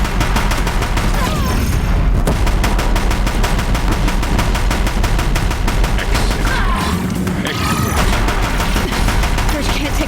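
Deathbringer machines in Horizon Zero Dawn firing nonstop, a dense, loud rattle of rapid machine-gun bursts and booms hammering steadily for about ten seconds, with a voice briefly underneath.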